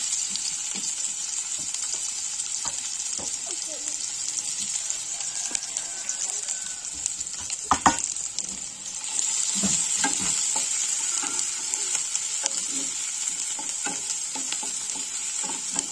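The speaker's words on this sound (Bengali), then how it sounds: "তেল গরম হয়ে গেছে দিয়ে দিলাম পেঁয়াজগুলো পেঁয়াজ কুচো" Chopped onions frying in hot oil for a Bengali-style spicy crab dish, a steady bright sizzle with occasional stirring clinks and scrapes, close and continuous.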